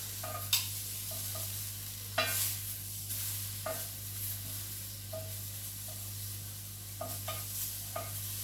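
Blanched asparagus sizzles steadily on a hot griddle to pick up colour, a soft continuous frying hiss under a low hum, broken by occasional scrapes and taps as the spears are moved.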